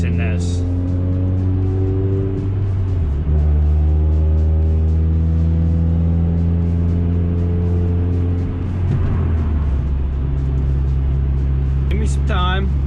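Chevrolet Cobalt SS engine idling and running steadily under light load, a loud constant drone with a pitch shift partway through, while someone talks over it.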